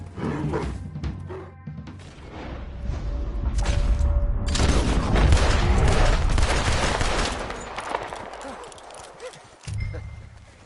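Gunfire in Red Dead Redemption 2, a dense fusillade of overlapping shots that builds through the middle and fades, with a horse and a dog audible and brief voices in the mix.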